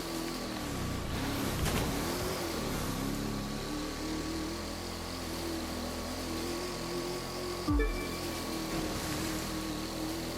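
A jetsprint racing boat in the video game The Crew 2 gives a steady, loud, droning engine whine over rushing water, continuous for about ten seconds with a brief surge near the end.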